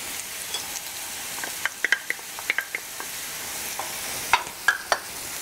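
Garlic frying in a pan for a spinach frittata, a quiet steady sizzle punctuated by a series of light spatula taps and scrapes, no voices.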